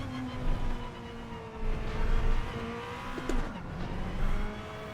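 A Toyota TS020 GT-One in Gran Turismo 7 slides its tail out, engine droning with shifting pitch while a brief tire squeal cuts in midway, fairly faint under steady road noise.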